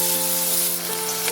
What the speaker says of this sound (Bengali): তেল গরম হলে আলুগুলো ছাড়ছি।